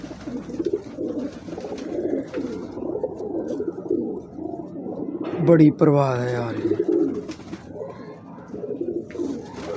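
Teddy pigeons from a breeder pair coo softly in a low, rolling murmur throughout, with someone talking over them.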